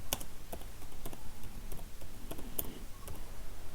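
Keys clack on a computer keyboard while text is entered in an editor: quick, irregular taps, faint and close, with no talking.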